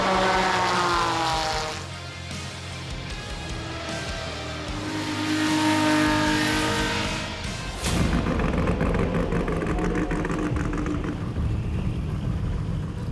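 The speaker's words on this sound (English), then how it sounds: "In the 2 Liters Cup, there's some real action to be seen, and some of the competitors drive on the limit or beyond" Race cars lapping at the 2019 Spa-Classic in the 2 Liters Cup, engine roar building and fading as cars pass, then a sharp shift to a harsher, buzzing close pass, loud and continuous with no voices.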